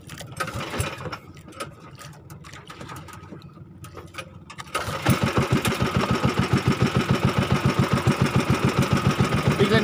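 A fishing boat motor chugs unevenly at first, then a nearby boat engine runs loud with a fast, regular throbbing pulse.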